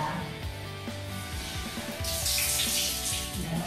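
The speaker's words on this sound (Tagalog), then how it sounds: "Shower for 10 minutes." Shower water running, a steady rushing spray that stays constant throughout and grows brighter and louder partway through, with no voices.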